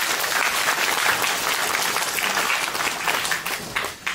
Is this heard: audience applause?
yes